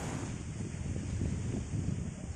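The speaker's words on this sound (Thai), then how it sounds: "ยามเช้า ลมแรงอากาศเย็นสบาย" Strong morning wind buffets the microphone at Chao Lao beach in Chanthaburi, a steady low rumble with faint surf mixed in, continuous and close throughout.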